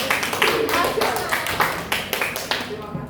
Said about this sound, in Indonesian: Tepuk tangan untuk 20 ya.